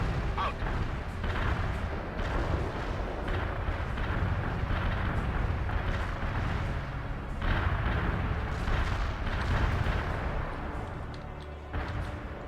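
A triple artillery barrage in the World in Conflict game, with heavy booming explosions rolling one after another, a dense continuous rumble of blasts and bursts with no pause across the whole stretch.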